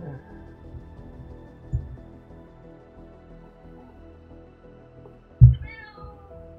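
A house cat meows near the microphone, one short call early and a louder one later, over faint background game audio.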